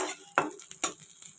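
Fish fries and sizzles in spiced water, heard as crackling spatters and a couple of sharp pops over about a second and a half, with no voices.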